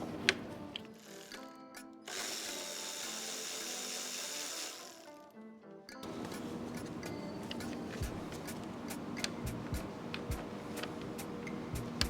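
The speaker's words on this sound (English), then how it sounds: "we have two 10 millimeter bolts holding this fan shroud, so we can also loosen these now." Ratchet clicking as 10 mm fan shroud bolts are loosened on a 2010 Jeep Grand Cherokee 3.7L V6, close and steady with repeated sharp metallic ticks over background music.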